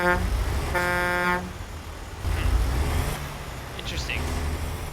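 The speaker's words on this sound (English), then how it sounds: "Interesting horn sounds." A Peterbilt truck horn blares in a steady, loud blast, then cuts off, leaving engine rumble and background noise; a couple of faint higher tones follow.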